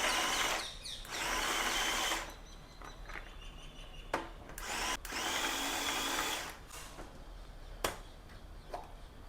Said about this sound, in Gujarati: આપણે એને ચોપરમાં જ આપણે એને ઝીણી સમારી લેવાની છે.